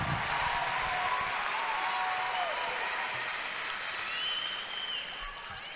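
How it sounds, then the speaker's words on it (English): Sustained audience applause at a high school commencement ceremony, a broad wash of clapping and crowd noise that holds steady and then tapers slightly, with faint cheers rising above it. "Let's give a big round of applause for Juju."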